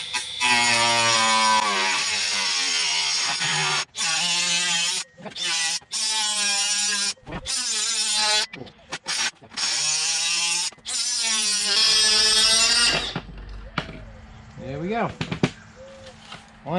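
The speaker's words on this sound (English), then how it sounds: "I'm going to use my little Ryobi. You should cut this pretty easily." A compact Ryobi power tool cuts through a plastic B&M shifter part during an install in a Pontiac Grand Prix, a loud sustained whine in several bursts broken by short pauses, fading out near the end.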